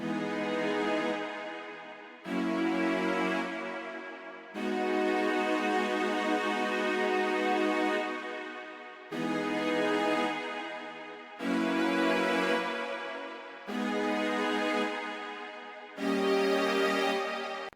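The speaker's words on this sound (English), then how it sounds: "So we got this SRX orchestra on a cellos preset." Sustained cello section from an SRX Orchestra bank preset in a dark R&B beat, long bowed chords changing every couple of seconds, played alone and fairly loud.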